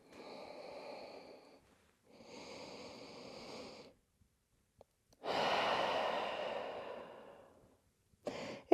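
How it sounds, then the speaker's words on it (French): Slow, deep breaths during a yoga session while lying on the belly: two soft, long exhales followed by a louder, drawn-out sighing breath, close and unaccompanied by talk. "Une dernière grande respiration allongée sur le ventre."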